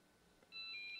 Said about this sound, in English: It's like a phone going off or something.